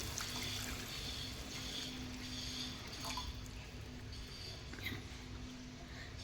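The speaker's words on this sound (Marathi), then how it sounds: "जेवढ्या आपल्याला पाटोळ्या लागणार आहेत तसं पाणी टाकायचं।" Water is poured into a pot of cooked masala, a soft, continuous liquid splashing and trickling heard close by over low background hum, with no talking.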